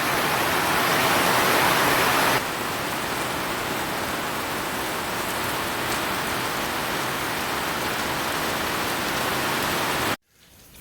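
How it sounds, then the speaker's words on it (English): Heavy rain pours down hard and steady at close range during a sailing trip, a dense continuous roar that eases slightly after a couple of seconds and then cuts off abruptly near the end. "I can barely hear myself because of the rain"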